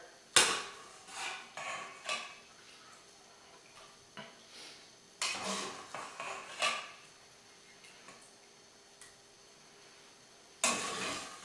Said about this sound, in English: Now what we're going to do is we're just going to scoop out this meat.